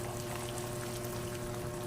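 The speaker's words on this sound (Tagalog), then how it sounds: "So, lagyan natin ng tubig." Water pours steadily into a pot of pork spare ribs being boiled for caldereta, a continuous close rushing splash with a low hum underneath, no speech.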